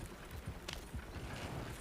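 Horse hooves clip-clop at a steady pace in Red Dead Redemption 2, moderately loud and close, with a brief sharper knock partway through and low rumbling ambience underneath.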